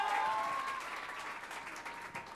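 Crowd at a U2 show at the Air Canada Centre applauding and cheering, a dense steady wash of clapping and voices with a faint whistle near the start.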